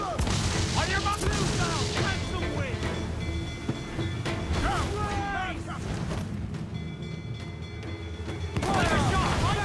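Ship cannons fire in a naval battle in Assassin's Creed IV: Black Flag, heavy booms and rumbling blasts scattered across the stretch amid a dense, busy game mix with voices talking over it.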